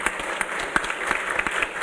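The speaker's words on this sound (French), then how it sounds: "on peut l'applaudir" An audience at a lecture event claps steadily, dense applause with no voices, moderately loud throughout.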